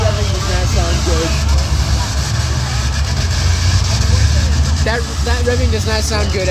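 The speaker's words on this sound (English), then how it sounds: "That revving does not sound good." A demolition derby car engine revs roughly at a county fair, loud and continuous with sustained throbbing roar, amid crowd and arena noise.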